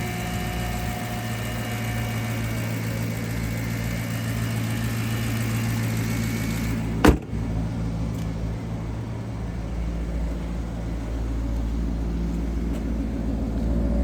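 A 2014 Maserati GranTurismo Sport engine idles steadily with a deep, throaty rumble through a bigger sound resonator, not in sport mode, continuous throughout, with one sharp click or thump partway through.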